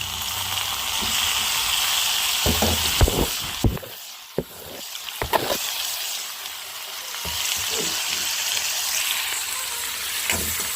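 Tomatoes sizzle and fry in a hot pan, a steady close crackle broken by a few brief stirring clatters midway before the frying resumes alone.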